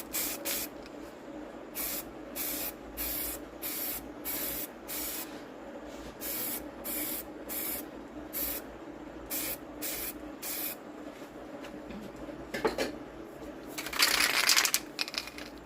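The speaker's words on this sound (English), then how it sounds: "We are going to start our pink spray paint on the orange part" Pink spray paint hisses onto a glitter tumbler in a rapid series of short bursts, each about half a second, spaced fairly evenly, with a longer, louder spray near the end.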